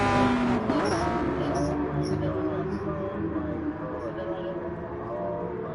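Porsche Supercup race cars in a racing video game, engines droning and shifting pitch in the background while a commentator talks over them throughout.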